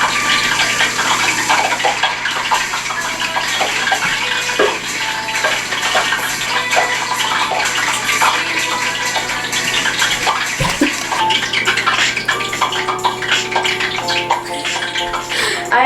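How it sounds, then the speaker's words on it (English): Water bubbling and popping in hot cooking oil at the bottom of a heavy pot, a steady close rushing fizz with crackles that runs continuously and loudly throughout. "now it's making a noise from all the water coming from the bottom and popping"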